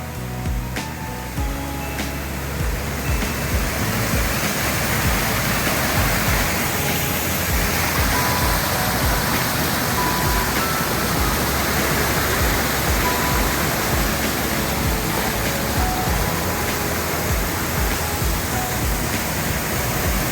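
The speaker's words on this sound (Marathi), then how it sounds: "समोर पाहत हा सुंदर असा धबधबा आहे" A waterfall at Vikhare Gothane village, Rajapur, falling from a high cliff among large rocks, roars steadily, a dense, unbroken rush of falling water that stays loud and constant throughout, with no voices.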